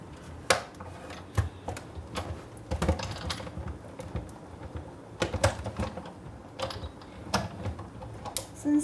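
Scissors cutting through a scrap of very thick cardstock, a series of sharp crisp snips and clicks at irregular intervals, close and fairly quiet with no talking.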